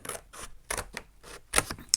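Scissors snipping through painted paper doodle flowers, a series of short crisp cuts in uneven rhythm, close and fairly quiet.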